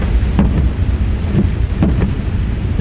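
Heavy rain during a cyclone near a beach, a dense, loud, continuous roar of rainfall and wind buffeting the microphone, with a few short thumps and no talking.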